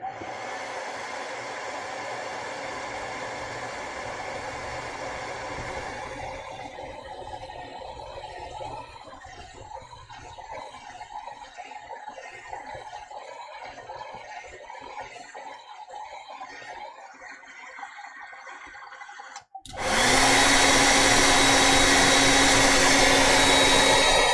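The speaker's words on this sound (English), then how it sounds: "let's dry it with a hair dryer, so I can dot that" A hair dryer blowing on fresh paint of an owl painting bursts on late, a loud, steady, close whooshing drone that follows a quieter stretch of muffled background noise.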